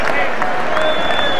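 A large stadium crowd applauds and cheers at the 1985 rugby league Challenge Cup final, a loud continuous roar of clapping with a commentator's voice over the top.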